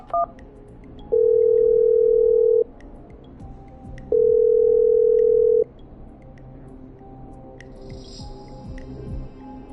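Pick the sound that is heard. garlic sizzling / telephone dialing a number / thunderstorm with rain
telephone dialing a number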